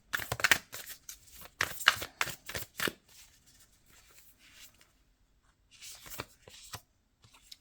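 Tarot cards drawn and handled from a deck, a burst of crisp shuffling and card flicks at the start, then quieter rustling and a few soft card snaps, close with a voice speaking briefly.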